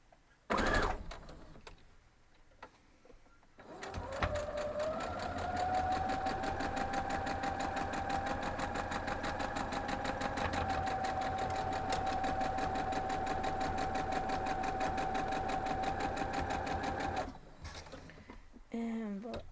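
A sewing machine stitches quilt block pieces together in one long steady run, a close rapid needle rhythm over a motor whine, with brief handling noises before and after.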